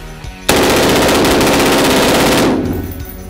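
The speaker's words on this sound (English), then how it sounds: "So now we're gonna run all these through a fully automatic and see how they function after the torture test." A fully automatic AR-15 fires one long, loud, unbroken burst of rapid shots through a magazine after a torture test, cutting off sharply and leaving a fading echo outdoors.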